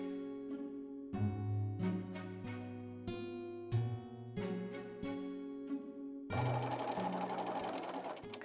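A sewing machine backstitches a seam on a German women's Wulsthaube headdress, humming in short stop-start runs before a longer, steady, close whir at the end.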